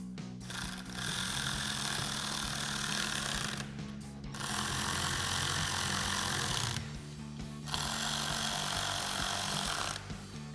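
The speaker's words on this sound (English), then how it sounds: "we're gonna use our T20 torque socket to run in all of our self-tapping screws" Self-tapping screws being driven in with a T20 Torx socket while installing a Jeep Gladiator JT third brake light, heard as three long whirring, ratcheting runs of a power driver separated by short pauses, close and steady.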